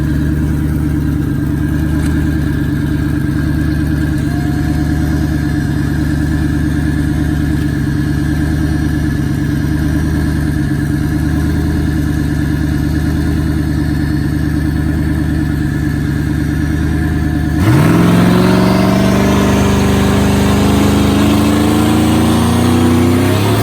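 A 2014 Ford Mustang GT drag car called Nightmare sits at a loud idle with a heavy rumbling drone, then the engine revs up sharply with a rising roar near the end.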